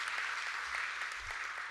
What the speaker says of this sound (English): A round of applause for our wonderful sponsor.